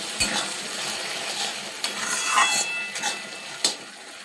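A spoon stirs tomato chutney in an uncovered pan: soft, close scraping and gentle bubbling sizzle, punctuated by a few sharper clinks of utensil against metal.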